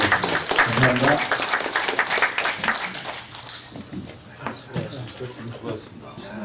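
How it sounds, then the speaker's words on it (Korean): An audience closing a Korean political panel event in LA claps loudly for about three seconds. The applause then fades away as people start talking and exchanging remarks nearby. "오랜 시간 수고해주신 네 분 패널 그리고 끝까지 경청해주신 관객 서로에게 힘찬 박수 한번 치면서"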